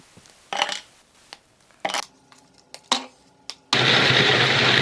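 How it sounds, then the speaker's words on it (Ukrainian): Shortbread cookies get crushed in a food processor or blender: several sharp clunks and rattles from the pieces in the bowl, then the motor kicks in for a loud, steady whirring grind, close and with no talk. "Подрібнюємо печиво в дрібну крихту"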